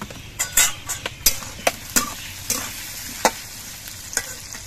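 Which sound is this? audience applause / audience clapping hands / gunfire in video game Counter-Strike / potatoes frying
potatoes frying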